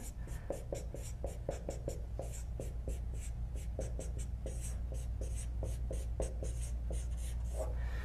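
Pen scratching across paper while handwriting notes, a steady run of short close strokes over a constant low hum, no talk.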